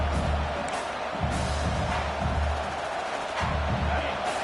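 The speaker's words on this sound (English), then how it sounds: "This crowd, full throat, spreading the eardrums and letting them know it's going to be a long day" A stadium crowd roars at a college football game between LSU and Clemson, a steady broadband wall of cheering with a low rumble that surges and holds throughout.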